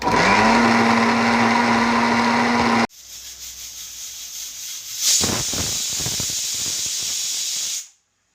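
A mixer grinder whirs loudly as it grinds onion masala paste for black mutton curry, steady motor drone with a hissing, churning whine that stops briefly, restarts and runs steadily before cutting off.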